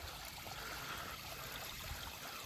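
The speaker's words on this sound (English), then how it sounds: "Water's flowing." Water flows through a creek crossing swollen by recent rain, making a constant, even rush and trickle with no voices over it.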